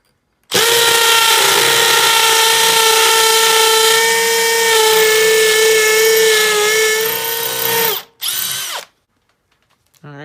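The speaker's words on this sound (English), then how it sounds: "So I'll just drill another hole real quick and do the same thing." A power drill whines at full speed boring a hole, a loud sustained motor tone for about seven seconds that dips, then a short second burst before stopping, with no one speaking.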